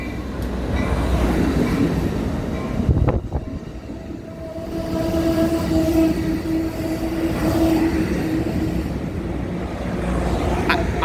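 Train 591 rolls into Fullerton station with a steady rumble and wheel noise, a loud clunk partway through, then sustained squealing tones as it slows along the platform.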